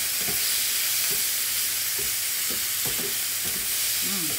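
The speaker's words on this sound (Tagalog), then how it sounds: "lagyan naman natin ng tomato. Ayan. Yan naman ang haluin natin ulit." Tomatoes frying in a pan, steady close sizzle with scraping stirs of a spoon at irregular intervals throughout, no voices.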